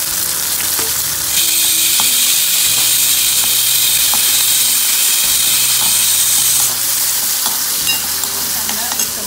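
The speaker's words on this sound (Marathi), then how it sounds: "कांदा, एक टोमॅटो, एक चमचा आलं लसूण पेस्ट, वास जाऊपर्यंत थोडं परतून घ्यायचं" Onion, tomato and ginger-garlic paste sautéed in a hot pan give off a steady, close sizzle and hiss, with a spoon stirring and scraping in bursts throughout.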